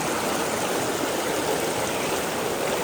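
Lopo river water flowing steadily, a dense, even rush of stream noise that fills the scene without a break and with no voices.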